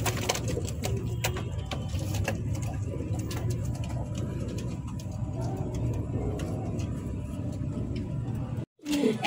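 A pair of white Lahori pigeons coo in soft, continuous low murmurs over steady background noise, broken by a brief drop near the end.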